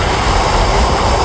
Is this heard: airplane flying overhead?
yes